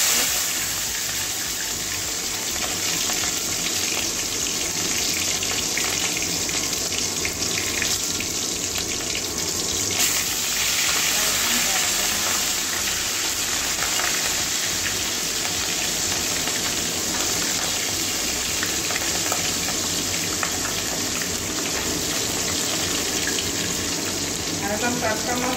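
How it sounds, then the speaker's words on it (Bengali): Katla fish frying in hot oil in a wok, a steady dense sizzle and spatter that runs loud and continuous the whole time, with no voices over it. "মাছগুলো ভাজবো"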